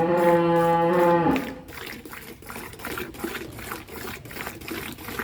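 A dairy cow gives one long, loud, close moo lasting over a second, followed by a quieter rustling, splashing farmyard background.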